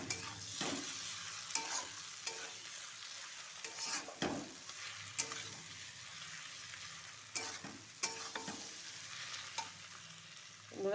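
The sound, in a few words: potatoes and egg being stir-fried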